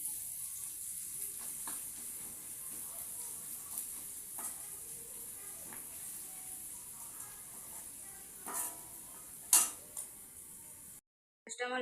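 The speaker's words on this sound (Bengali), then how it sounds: "পেঁয়াজটা আমার লাল করে ভাজা হয়ে গেছে" Onions frying red in a pan for a spicy egg curry, a soft steady sizzle with occasional clinks and stirring scrapes, fairly quiet throughout.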